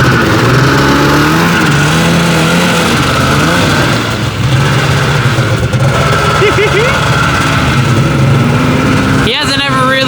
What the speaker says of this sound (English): He hasn't ever really ridden a snowmobile, so they kind of feel a little funny in the grass